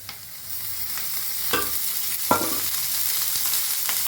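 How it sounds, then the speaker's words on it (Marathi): Onion stir-frying in oil in a pan, giving a steady close sizzle with a few sharp scrapes of the stirring utensil against the pan. "हलवून भाजून घेऊया कांदा"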